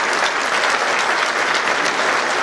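Steady, dense applause from a seated audience at a municipal award ceremony for the Łużna commune in Poland, filling the whole stretch loud and unbroken with no speech over it.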